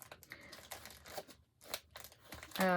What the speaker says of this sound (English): I'm going to open this package and see what that is.